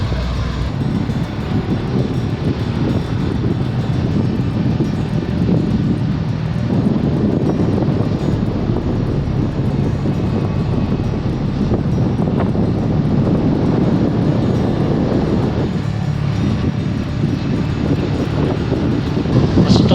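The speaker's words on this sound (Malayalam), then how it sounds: "കാറ്റുണ്ട്" Strong wind blowing on an open road on the Ha Giang Loop in Vietnam, a steady loud rushing roar that buffets the microphone for the whole clip without pause.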